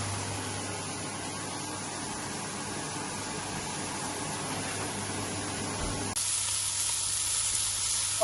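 Steaks sizzle steadily in a hot pan, a continuous broadband hiss with a low hum underneath, turning brighter and louder for the last couple of seconds.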